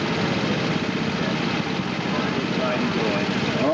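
A restored Gibson tractor engine runs steadily nearby at a Gibson show, a continuous low idling rumble that stays even for several seconds.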